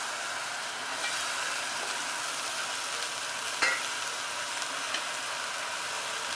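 Green peas and potatoes are stirred into a hot pan for a Maharashtrian vatana rassa bhaaji, giving a steady, close frying sizzle with occasional soft scrapes of stirring and no voices.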